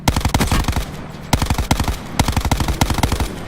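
Rapid automatic fire in Call of Duty Blackout, loud and close, coming in tight bursts of many shots with short pauses between them.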